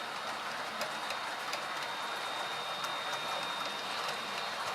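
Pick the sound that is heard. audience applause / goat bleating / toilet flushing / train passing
train passing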